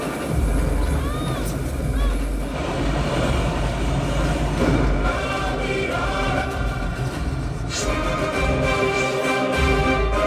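A train rumbles along with a steady low roar and rattling, with faint murmuring voices in the background.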